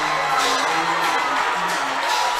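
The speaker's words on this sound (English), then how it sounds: "Listen to this Maumee crowd." A high school football crowd at Maumee roars and cheers, a dense, sustained wall of shouting and whooping from a packed stadium, steady and loud without pause.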